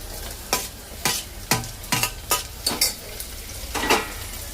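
Tomatoes added to browned onions sizzle in a pan as a spoon stirs them in about eight quick, separate scraping strokes over a steady frying hiss.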